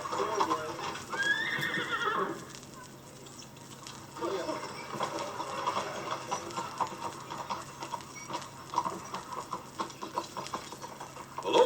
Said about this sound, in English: Here comes our carriage, so let's get started.